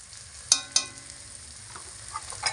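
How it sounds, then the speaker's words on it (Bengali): Onion and garlic sizzle quietly in a pan while a utensil scrapes and clinks against it a few times, close by and without talk. "সবকিছু একসঙ্গে ভালো করে নাড়াচাড়া করে ভেজে নেব"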